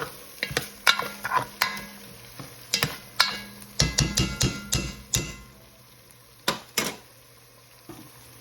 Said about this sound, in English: So we're gonna stir this up.